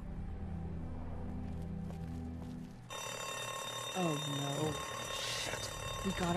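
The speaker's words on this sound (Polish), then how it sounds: "Włączyliśmy alarm, co niestety skupi na nas uwagę zombiaków najprawdopodobniej." An alarm going off in The Walking Dead video game, a loud steady electronic ringing that starts abruptly partway through and carries on under someone talking and other game sounds.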